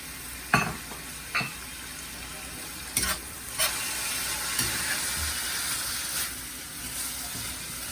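Shredded carrot thrown into a hot frying pan for Singapore mei fun, a steady loud sizzle with a few sharp clanks and scrapes of stirring, no talk.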